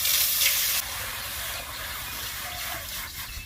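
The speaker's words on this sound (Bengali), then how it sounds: "কুল সিদ্ধ করবো বলে জল দিচ্ছি কড়াইতে।" Water is poured into a wok to boil jujube fruit for pickle, giving a steady rushing hiss and sizzle that fades slightly partway through.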